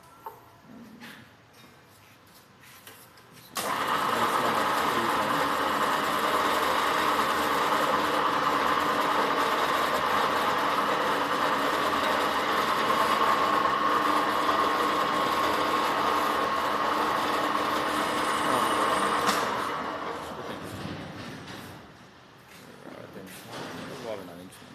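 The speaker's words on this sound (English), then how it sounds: "this is the machine that's being used to the windings," Coil winding machine winding copper coils for a 500 HP induction generator, a steady continuous mechanical whir running for about sixteen seconds in a workshop, starting and stopping abruptly.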